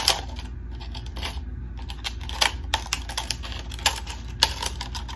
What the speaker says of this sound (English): So instead, what we're gonna do is just cut a little bit more from the bottom part.